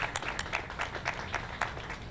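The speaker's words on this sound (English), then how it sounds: "Let's give them a round of applause." Applause from a small audience at a hospital wellness event, steady and moderately faint, with scattered individual claps standing out through the short stretch.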